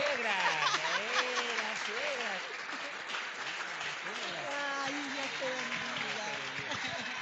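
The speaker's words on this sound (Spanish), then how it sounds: "Un fuerte aplauso para el Señor" A church congregation applauds at a Spanish-language service, steady clapping beneath a voice talking over it, with a bit of laughter.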